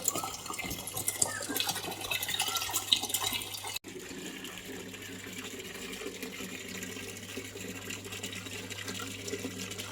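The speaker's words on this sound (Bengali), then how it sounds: "খাবার জল একটু নিয়ে নিচ্ছি" Fresh drinking water running from a tap into a container in a home, a steady close splashing fill that quietens and thins after a brief cutoff partway through.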